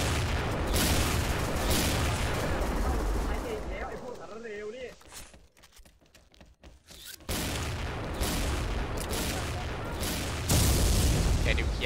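Heavy gunfire and booming blasts from the video game XSHOT fill the clip in dense volleys, easing into a short lull with scattered shots before the barrage picks up again, with a voice talking over it.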